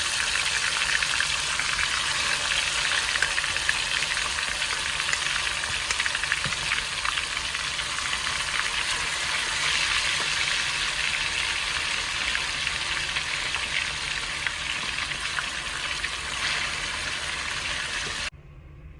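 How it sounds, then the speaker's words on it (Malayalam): Constant, even sizzle and hiss of chicken pieces frying in hot oil for biryani, holding steady for a long stretch before stopping abruptly. "ബിരിയാണിക്കുള്ള ചിക്കൻ ഒന്ന് നമുക്ക് പൊരിച്ചെടുക്കാം"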